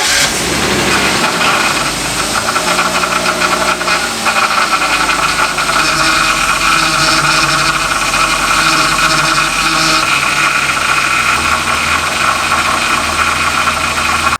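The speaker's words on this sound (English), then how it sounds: "with the power steering making so much noise" BMW E38 engine running with noisy power steering, a loud, steady mechanical drone with a constant whine and rattle layered over the idle, unbroken for the whole stretch.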